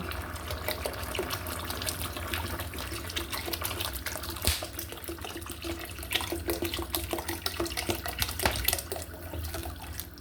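Water poured into a cooking pot for beef goto lugaw, a steady faint splashing gush lasting about ten seconds with no talking.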